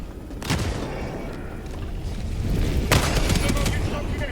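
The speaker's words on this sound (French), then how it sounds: "C'est une tourelle au loin." Distant turret fire in the video game Army of Two: a steady rumble of rapid game gunfire, with sharper bursts standing out near the start and again later.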